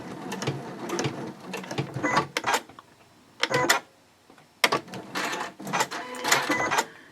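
A sewing machine stitches and back stitches through a clear vinyl pouch in several close, loud bursts of rapid mechanical chatter, with brief pauses between the runs.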